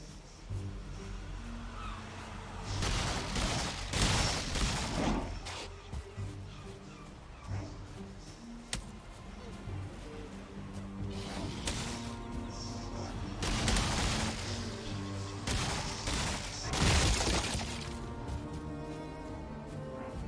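Repeated crashing and smashing bursts from destroying a structure in the video game Valheim, several loud noisy hits spaced irregularly over a steady background rumble.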